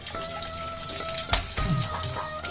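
Whole spices, cloves, cardamom, cinnamon sticks and star anise, drop into hot oil and fry with a steady, loud sizzle and some crackling pops close by.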